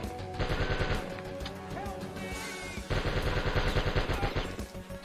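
Rapid explosive weapon fire from rockets and grenades in the Die Hard Trilogy video game, a dense continuous barrage of blasts with a brief lull before another loud burst, up close with game music underneath.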